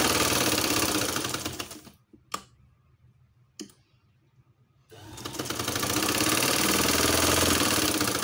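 A sewing machine stitches a ribbon for a handmade Russian doll. It runs in a loud, fast whirring burst, stops for a quiet gap marked by two sharp clicks, then whirs on again steadily.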